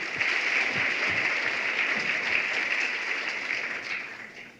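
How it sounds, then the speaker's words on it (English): Applause from the audience at a science communication final on stage, a dense steady wash of clapping that stays loud and fades slightly toward the end. "Round of applause for him"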